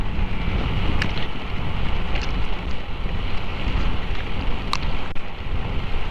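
Steady rain hisses over a broad rumble of wind and engine noise in Masbate, Philippines, with faint scattered pattering and no voices.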